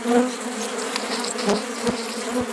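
Honey bees buzz steadily and close around a frame pulled from the hive, a dense continuous hum with a few individual bees droning louder as they pass nearby.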